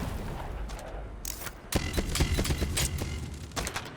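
FAMAS rifle fire in a competitive shooter game comes in quick repeated bursts, loud and close, with dense rattling shots running through most of the stretch and a short lull before a heavier volley.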